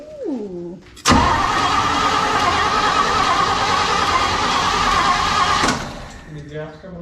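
A 1965 Chevy C10 engine catches abruptly and roars loudly for several seconds before shutting off, with people talking before and after.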